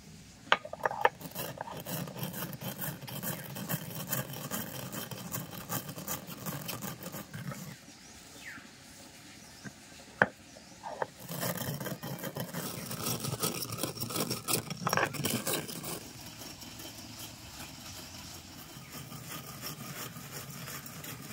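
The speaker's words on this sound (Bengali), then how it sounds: "এই ভাজা আতপ চালগুলোকে আমি শিলনোড়ায় গুঁড়ো করে নিচ্ছি।" Fried Gobindobhog aatap rice grains are crushed on a traditional shil-nora grinding stone, giving steady rough scraping and grinding strokes with occasional sharp knocks, moderately close and without voices.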